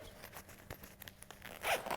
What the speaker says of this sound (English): You simply unzip the zipper,